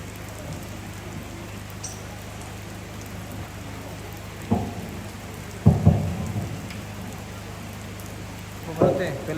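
Steady rain hisses down at night with a low constant hum underneath, broken by a few louder thumps and rumbles.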